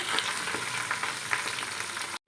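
Onions sizzle steadily in hot oil in a pot with spices and leaves, the first stage of a chicken biryani. The close, even frying hiss runs throughout and then cuts off abruptly at the end.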